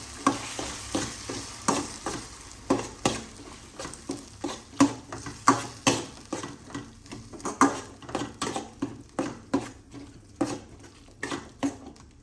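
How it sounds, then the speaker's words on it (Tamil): A spoon stirs fish curry in a pan after salt goes in, making a string of sharp scraping and clinking strokes in an uneven rhythm over a faint sizzle, close and clear. "தேவையான அளவு உப்பு போட்டுட்டு லைட்டாக கிண்டி விட்டுக்கணும்"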